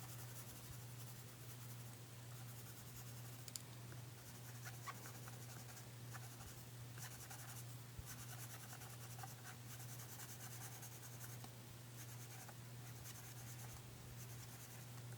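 Colored pencil shading lightly across paper while filling in green on a Stampin' Up! card, a soft continuous scratchy rubbing that runs steadily throughout under a steady low hum.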